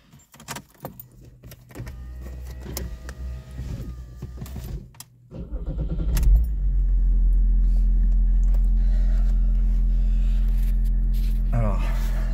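A BMW 330d E46 diesel engine is switched off and restarted: keys jangle and someone talks near a steady idle, the engine cuts to sudden quiet, then cranks back up into a loud, steady low rumble.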